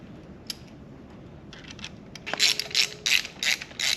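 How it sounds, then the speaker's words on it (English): A torque wrench tightening bolts on the engine of a Subaru Impreza WRX STI makes a series of close, crisp ratcheting clicks in short bursts, sparse at first, then a quick run of rapid ratchet strokes. "Go ahead and torque these to 25 foot-pounds"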